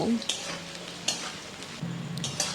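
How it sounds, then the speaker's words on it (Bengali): Potato pieces frying in a pan on a medium flame, a soft steady sizzle broken by a few sharp scrapes and clinks of a spoon stirring, close and fairly quiet with no talking. "আলুগুলো কিন্তু আমি মিডিয়াম ফ্লেমেই ভাজছি বেশ একটু হালকা ব্রাউন করে"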